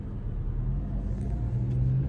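A Dodge Charger Hellcat idles with a deep, steady exhaust rumble, close and fairly loud, holding an even low burble throughout with a faint hint of rising tone near the end.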